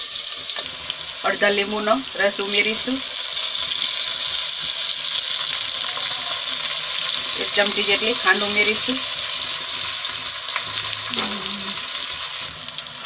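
Cut patra sautéing in a pan with curry leaves and asafoetida, a steady loud sizzle with stirring, while someone talks over it at intervals.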